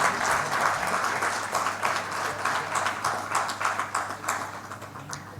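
Conference audience applauding steadily as award recipients are called forward at a heart care awareness event, sustained hand clapping with some distinct nearer claps, faint voices beneath.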